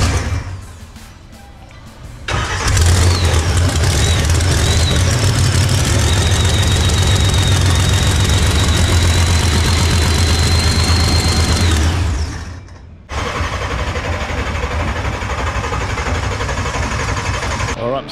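A car strapped to a hub dyno cranks and catches, then runs at a loud, steady idle with a faint whine before cutting briefly and restarting.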